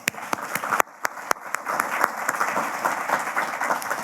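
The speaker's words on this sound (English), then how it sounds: "Please join me in thanking them with your applause" An audience at a lecture and awards event applauds to thank the institute's directors, starting with a few loud, isolated claps and swelling into steady, sustained clapping from the crowd.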